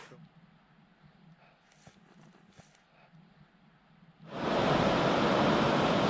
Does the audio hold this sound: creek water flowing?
yes